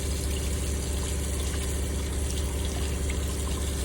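Cold tap water pours steadily over a Scrub Daddy sponge, a continuous broadband rushing stream with a low pump-like hum underneath, close and fairly loud, with no voices.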